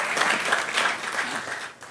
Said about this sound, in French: On applaudit pour le déco et pour Raïssa